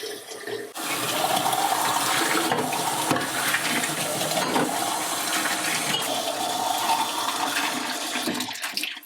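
Hot water running steadily from a tap into a kitchen sink to clean and sterilize glass canning jars, a loud, continuous rushing that holds for several seconds after a brief quiet start.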